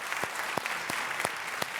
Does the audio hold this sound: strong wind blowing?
no